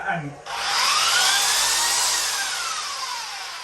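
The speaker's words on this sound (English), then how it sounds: "And this beast, the sander, my belt sander, okay, it's pretty hardcore" A belt sander powered from a solar setup in a camper van spins up after a brief voice and runs as a loud, continuous high whine with a slowly shifting pitch.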